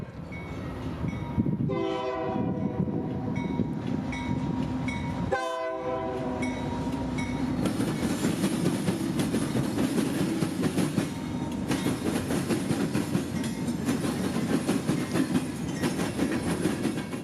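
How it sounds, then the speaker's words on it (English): A CSX freight train rumbles past close by in central Georgia, its distinctive horn sounding in two long blasts early on over steady wheel clatter that continues to the end. "the very distinct and unique horn on the CSX engine"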